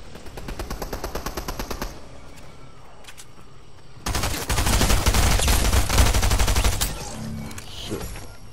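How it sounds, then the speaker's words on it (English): Rapid, loud, sustained gunfire in a shooter video game, with dense bursts that grow heavier partway through and then fall back to lighter firing. "Sniper shots."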